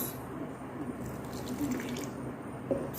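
Liquid is poured into a homemade lemon peel facial wash mixture being thickened with sea salt, a continuous close trickling splash with a few small drips, no talking.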